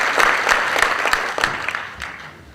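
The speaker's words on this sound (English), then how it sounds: "So really, actually strong applause to the committee that have been organizing that." A conference audience breaks into brief, dense applause, steady at moderate volume across a short stretch and thinning slightly at the end.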